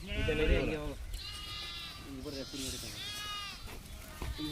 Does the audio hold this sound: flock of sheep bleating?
yes